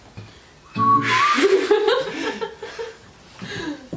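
A person whistles a few bright, wavering notes up close, mixed with soft chuckling and laughter, briefly pausing before another short burst near the end.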